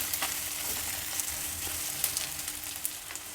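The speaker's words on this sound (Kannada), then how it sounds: "ಈರುಳ್ಳಿ ಹಾಕ್ತಾಯಿದ್ದೀನಿ." Onions frying in hot oil for chitranna, a South Indian lemon rice, giving a steady, close sizzle with crackling pops throughout and no voices.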